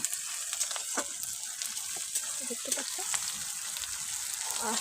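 Chopped onions sizzle in hot oil in a home kitchen while being stirred, giving a steady bright crackle with scattered scraping taps. A voice speaks briefly over the frying.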